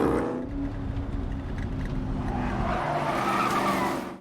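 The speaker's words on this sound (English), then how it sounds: "the distant growl of a car engine breaks through it." A car engine growls and tires skid in a deserted city street overgrown with vines, a steady, fairly loud roar lasting throughout with a rising screech toward the end.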